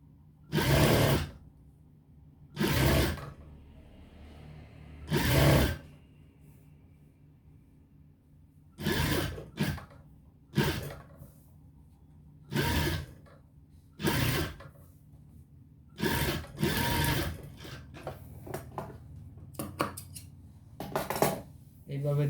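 A sewing machine stitches a neck design on a garment in several short bursts, each a loud rattling run of a second or two separated by pauses, growing quicker and choppier toward the end.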